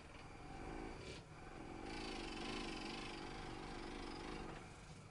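A handheld massage gun runs with a steady, rapid motorized buzz, close and continuous, briefly dipping once before humming on.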